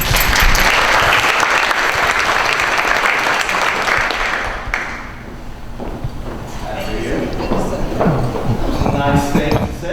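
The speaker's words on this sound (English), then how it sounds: "So let's give him a round of applause." An audience applauds a presenter at an entertainment show, dense clapping that fills the room, loud and steady, then thins out as talk and movement take over.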